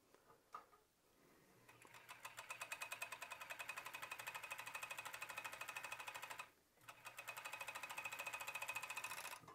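A serger stitches the shoulder seam of a 3D shirt, running in a fast steady mechanical chatter for several seconds, briefly pausing, then resuming close and loud.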